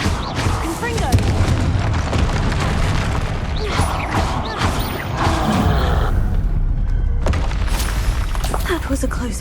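Spell blasts from the Confringo blasting curse in Hogwarts Legacy boom repeatedly amid loud game combat, with grunts and a voice shouting over the explosions throughout.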